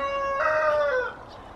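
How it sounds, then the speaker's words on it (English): A garden chicken kept in a backyard lets out one drawn-out, tonal call lasting about a second, clear and fairly close, with no talking. "That's the chicken singing to you."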